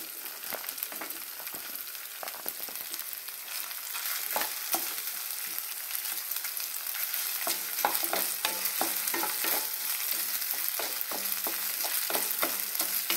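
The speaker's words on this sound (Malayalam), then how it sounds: "ഇഞ്ചി നന്നായിട്ട് വഴറ്റി എടുക്കണം." Ginger and green chillies sauté in a pan, a continuous crackling sizzle punctuated by frequent spatula scrapes and stirring clicks, fairly close and moderately loud throughout.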